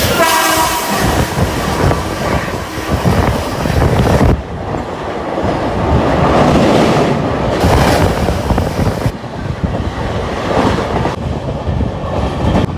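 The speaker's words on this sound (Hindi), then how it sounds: "यह अपनी देहरादून गोरखपुर राप्ती गंगा एक्सप्रेस" The Dehradun–Gorakhpur Rapti Ganga Express train rushing past at close range, a loud roaring clatter of wheels and wind with a horn-like tone early on, continuous throughout.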